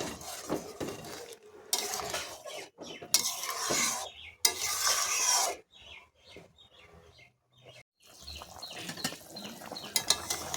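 Ground cumin and green chilli paste stirred in a pan for a prawn and green banana curry, with bursts of scraping, clinking spoon strokes separated by quiet gaps, close and clear.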